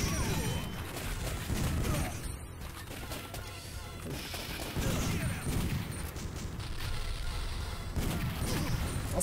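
Explosions and destruction ring out in the Time Crisis arcade shooting game, with loud, dense bursts of gunfire, crashes and booming impacts that swell and fade over several seconds. A voice talks faintly underneath.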